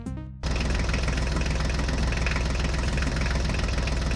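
Tractor engine in a cartoon, catching after a short start and then running loud and steady with an even, rapid idling chug, alone without voices.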